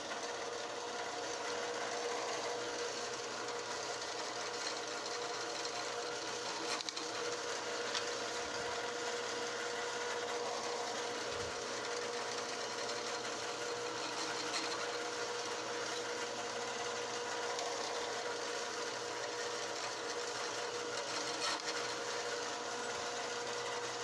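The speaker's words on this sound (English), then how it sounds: "Now those pre-drilled holes, I'll just guide this drill bit right through." A drill runs steadily for a long stretch, its motor whirring at a constant pitch with a faint grinding texture as the bit bores through pre-drilled holes in wood.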